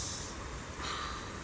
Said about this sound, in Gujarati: હવે આ બંને નાકથી શ્વાસ